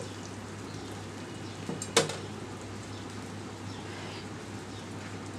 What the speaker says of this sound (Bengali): এই সাইডেও আমি দুই থেকে তিন মিনিট একটু মিডিয়াম টু লো আছে ভেজে নিব